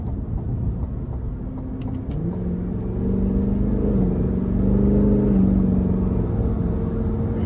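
A 2023 Cadillac Escalade V-Series with a supercharged V8 is revved gently under light throttle, a deep, steady rumble that swells and eases over several seconds, heard from inside the cabin.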